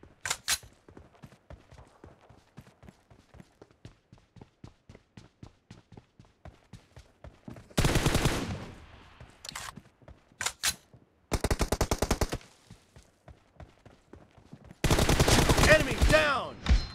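Full-auto M416 assault rifle fire in PUBG Mobile during a one-on-one fight, heard as several loud sustained bursts separated by quieter stretches of rapid clicking and footstep-like ticks.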